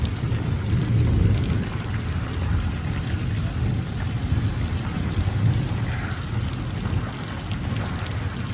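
Heavy rain pours outdoors in a village as evening falls, a dense, steady hiss of falling water with a faint low rumble underneath, constant and close with no one speaking.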